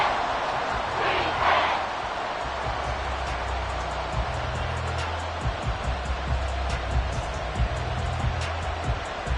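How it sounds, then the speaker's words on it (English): An American football video game crowd at Arrowhead stadium roars in a dense, steady wall of cheering, loud and continuous with a few bouncy thumps, no voices standing out. "The Arrowhead crowd in full roar"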